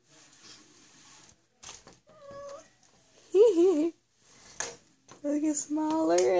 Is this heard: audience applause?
no